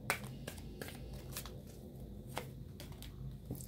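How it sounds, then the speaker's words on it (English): A deck of tarot cards being shuffled by hand, producing quick papery riffles and soft slaps repeating close by at a low, steady volume. "One more shuffle."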